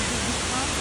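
The Shiraito waterfall roars as a dense, loud, continuous wash of falling water, broad and steady throughout the brief moment, with a voice faintly mixed in.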